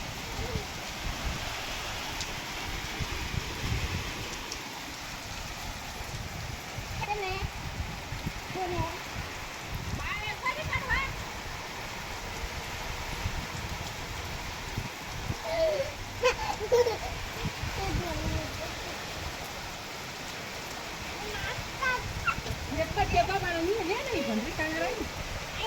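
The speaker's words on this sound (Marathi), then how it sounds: "लाईव्ह दर्शन आहे पावसाचं शेवगाव तालुक्यामधून" Heavy rain in Shevgaon, Ahmednagar district, pours continuously, a dense hiss with spattering drops on surfaces, while voices talk intermittently in the background.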